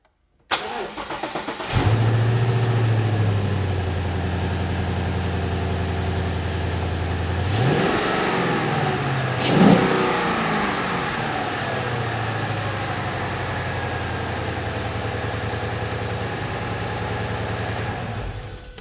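A 2015-2017 Mustang GT V8 with a newly fitted BBK 85mm Power Plus throttle body cranks and fires, then settles into a loud steady idle with two brief revs about midway, running alone close by.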